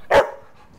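A shelter dog gives a single sharp bark, loud and close, then quiet room tone.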